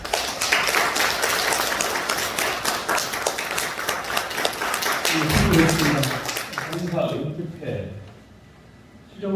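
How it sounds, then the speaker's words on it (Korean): Congregation clapping at a church retirement ceremony, a brisk burst of hands for several seconds that thins out while a voice speaks over it, then fades to quiet near the end. "박수"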